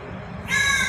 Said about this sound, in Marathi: राम राम असं करून तो ओरडत आहे